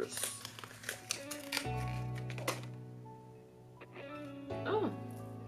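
Plastic packaging around a 30-inch jumbo kinky straight synthetic ponytail crinkles and crackles in bursts as it is pulled open by hand without scissors, with brief rustles close by and a voice speaking softly in between.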